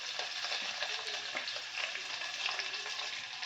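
Chopped onion sizzles and crackles in hot oil in a home kitchen pan while cooking chicken biryani, a close, continuous frying hiss with small pops and occasional stirring scrapes.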